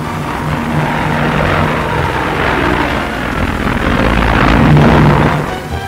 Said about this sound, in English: It's a mass takeoff.